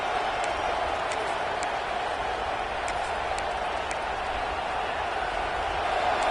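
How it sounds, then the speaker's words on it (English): A football stadium crowd roars in a steady, loud wash of cheering that holds throughout, with a commentator's voice on top. "This crowd, full throat, splitting the eardrums and letting them know it's going to be a long day."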